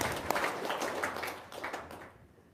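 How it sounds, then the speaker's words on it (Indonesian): Audience applause fills a talk event, a dense, steady patter of many hands clapping at moderate volume before thinning out and fading toward the end. "tepuk tangan dong"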